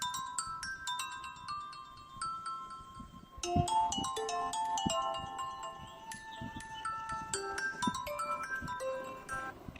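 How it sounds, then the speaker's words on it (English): The default Windows Phone ringtone playing from the speaker of a Lumia 640 XL, a bright, clean melodic chime pattern repeating at moderate volume with no voices. "Let's try ringtone."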